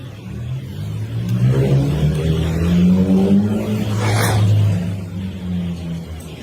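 A car, near a 2-door Jeep Wrangler with a plow, plays back from a recording as a loud, steady engine drone that swells and eases as it revs or passes, with a brief higher hiss midway and no talk.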